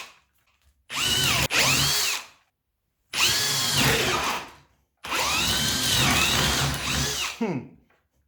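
A Parkside drill with an 8mm wood bit whirs loudly and close in three separate bursts, each a few seconds long with short silences between them, its pitch rising and falling as the bit bites into the wood.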